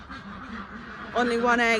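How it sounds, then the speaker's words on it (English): Farmyard ducks quack noisily nearby, with a burst of nasal calls rising near the end while a person speaks over them. "The ducks are so noisy."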